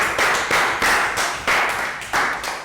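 A class of Year 3 children claps in short bursts during a movement lesson, about five uneven rounds of close, loud hand claps separated by brief pauses.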